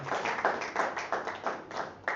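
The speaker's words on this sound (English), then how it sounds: "Let's put our hands together. Let's clap very well." An audience applauds steadily, many hands clapping together in a dense, continuous patter that swells in small waves.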